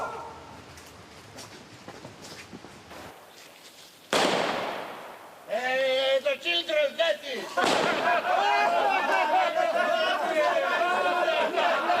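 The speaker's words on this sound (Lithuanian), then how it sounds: "Petardas už minios." Firecrackers bang beyond a crowd: a sharp loud burst, then dense crackling pops and crowd noise that swell and stay loud to the end.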